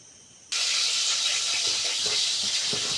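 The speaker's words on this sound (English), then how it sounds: "You can hear the sound of the oil sizzling." Oil starts sizzling loudly and abruptly in a pot as iru and onions go in to fry for Nigerian egusi soup, a sustained bright hiss that holds steady, close and continuous, with no voices.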